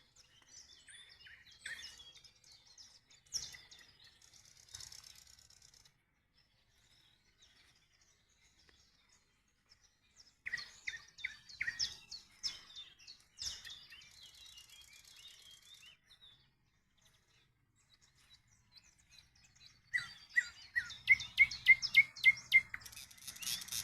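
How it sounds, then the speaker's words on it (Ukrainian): A nightingale sings in bright, rapid trills and chirping phrases, arriving in three separate bursts with quiet pauses between, fairly distant in a calm outdoor setting. "Хочу, щоб ви послухали солов'я."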